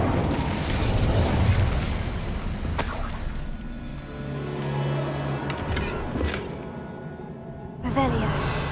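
Casting the Incendio fire spell in Hogwarts Legacy, the video game, gives a loud rushing whoosh that fades into quieter crackles. A sharp pop lands near the end, and a voice speaks over part of it.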